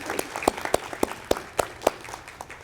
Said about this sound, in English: Let's have a round of applause for Janet.